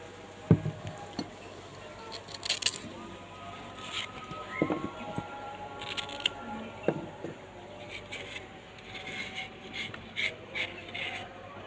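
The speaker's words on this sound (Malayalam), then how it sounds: "നമുക്ക് പച്ചക്കായ് മുറിച്ചെടുക്കാം" A knife cuts raw green plantain into fairly large pieces for a curry with rib bones, giving scattered, close, soft cutting and scraping sounds at an irregular pace, with no talking.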